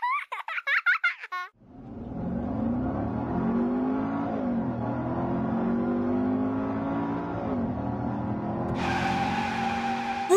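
A race car engine revving in a children's cartoon, a sustained roaring whine with shifting pitch that holds steady for several seconds after a short burst of squealing sounds.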